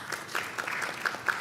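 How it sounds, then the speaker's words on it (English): Brief, fairly quiet applause from an audience at a health financing policy talk, with scattered individual claps standing out from a soft, even patter. "A round of applause for her"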